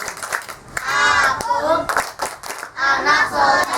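Children perform the rhythmic 'tepuk anak soleh' clap chant, sharp clustered hand claps in a patterned beat alternating with loud chanted voices, close and energetic throughout.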